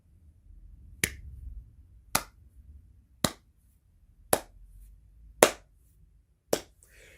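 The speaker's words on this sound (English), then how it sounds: "All I can say, brother, is slow clap" A deliberate slow clap: six single, sharp hand claps spaced about a second apart, close and crisp, each standing alone against near silence.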